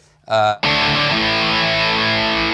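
An electric guitar runs through a Boss ME-5 multi-effects unit set to a metallic overdrive, first a brief chord stab and then a loud, sustained distorted chord ringing out with no talking.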